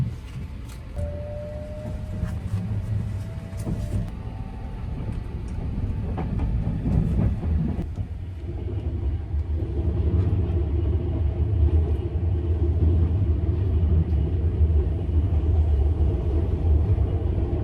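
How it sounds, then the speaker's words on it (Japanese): The Sunrise Seto sleeper limited express rolls along with a steady, loud low rumble from the rails, with a few brief clatters and tonal squeals early on before the rumble settles into a continuous roar. "この列車は寝台特急サンライズ瀬戸号。"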